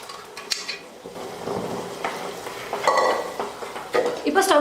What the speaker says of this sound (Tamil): நம்ம ரெடி பண்ணி வச்சுருக்கிற கடலைக்கறியை இதில் ஊற்றிடுறேன்